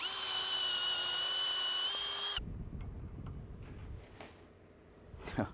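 A hammer drill runs with a steady high-pitched whine for about two seconds and then stops, followed by faint clattering and scraping as paint is knocked off a metal bench.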